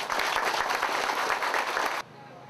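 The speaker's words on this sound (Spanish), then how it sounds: "por el cual pido un gran aplauso" A burst of audience applause for a police chief at the inauguration of a police station, dense and loud for two seconds before stopping abruptly.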